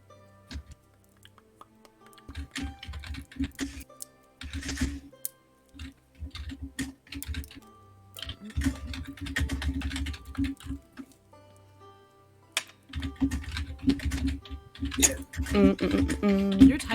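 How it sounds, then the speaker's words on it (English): Fast, heavy typing on a computer keyboard comes in irregular bursts of sharp clacking keystrokes, close and fairly loud, with short pauses between runs and a low hum underneath. "Your typing is so aggressive."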